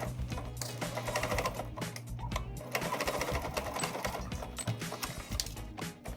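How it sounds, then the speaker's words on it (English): A sewing machine stitching corset cups together, running in quick rhythmic bursts of needle clatter with brief pauses between runs, close and clear with no talking. "we're going to sew the upper cup to the lower cup on the main pieces and the lining pieces"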